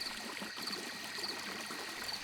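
Water flows steadily in a horror-animation scene, a continuous soft stream-like trickle and hiss that stays even throughout with no other sounds.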